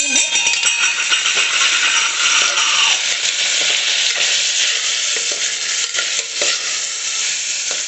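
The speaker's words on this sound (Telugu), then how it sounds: "ఇలా కొద్దిగా ఫ్రై చేయాలండి ఆయిల్లో" Lentils fry in oil with a bright, close sizzle, accompanied by repeated scraping and stirring against the pan.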